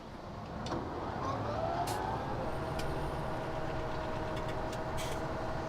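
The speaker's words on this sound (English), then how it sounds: "Now I gotta start the engine again, dang it." Farm vehicle engine starting up in the video game Farming Simulator 17, settling into a steady, loud mechanical rumble with faint clicks and hiss over it, and no talking.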